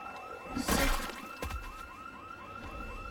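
An ambulance siren in Project Zomboid wails, rising and falling repeatedly at moderate distance, with a brief rushing burst and a thud near the start.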